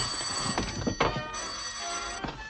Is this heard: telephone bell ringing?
yes